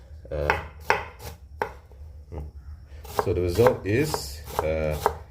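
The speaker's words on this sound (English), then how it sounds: "You cut horizontally and then you cut vertically." A knife chops onion on a cutting board in sharp, close taps, first a few spaced strokes and then quicker bursts, with a person talking over the later cuts.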